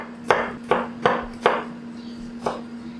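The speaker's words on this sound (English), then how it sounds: "I need to chop shallot" A knife chopping shallot on a cutting board, five crisp separate strikes at an uneven pace, close and clear over a steady background hum.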